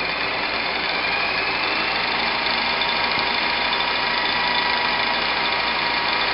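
A DC motor spins at 100 volts armature voltage, giving a steady, loud, even mechanical whine and hum with a faint rattle that holds unchanged from start to end, with no talking.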